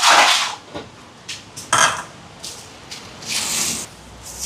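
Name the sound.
mixing chicken biryani marinade with yogurt and ginger-garlic paste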